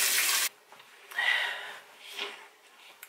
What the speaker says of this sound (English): So I'm gonna go rinse it off.